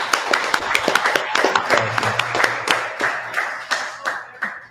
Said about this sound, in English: Let's clap it up for you first.